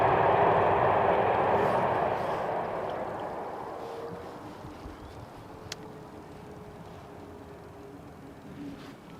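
Airbus A320neo airliner at Amsterdam Schiphol, a broad roar of engine and rolling noise that is loudest at the start and gradually fades as the jet moves away down the runway, with steady low rumble remaining.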